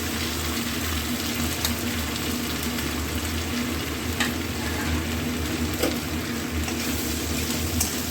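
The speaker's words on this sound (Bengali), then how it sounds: "ক্যাপসিকাম আর পেঁয়াজ, আর তার সঙ্গে কয়েকটা টুকরো টুকরো করে কাঁচা লঙ্কাও দিয়ে দিচ্ছি" Capsicum, onion and green chillies fry in oil for chilli chicken, a continuous dense sizzle running through the whole stretch with occasional stirring clinks and scrapes, close and steady without speech.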